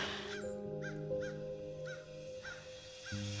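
A crow caws outdoors, giving about six harsh, evenly spaced calls at moderate distance over a faint steady background hum.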